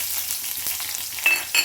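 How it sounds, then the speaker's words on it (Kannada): Onions dropped into hot oil already holding mustard seeds, cumin and curry leaves for a North Karnataka capsicum palya, giving a steady close sizzle that swells with a couple of brief sharper crackles near the end; no talking. "ಇವಾಗ ಈರುಳ್ಳಿ ಹಾಕ್ತಾಯಿದ್ದೀನಿ."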